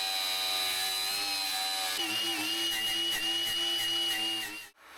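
A heat gun blows with a steady, loud whirring drone as it warms sound deadening mats on a Sprinter van during rust repair, cutting off abruptly at the end.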